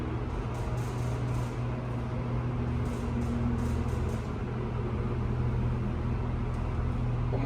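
The motor of a brand new, very large hydraulic elevator in the Indianapolis Motor Speedway Museum runs as a steady, loud mechanical hum with a constant low drone, unchanging and close.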